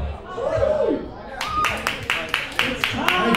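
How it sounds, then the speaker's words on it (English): An audience at a karaoke night at a restaurant claps for a singer, with a few scattered bursts of clapping after a voice speaks over a microphone. "Let's have a nice warm round of applause for Tom."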